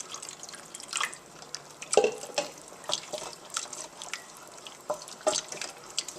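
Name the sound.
pouring milk into baby macaroni cheese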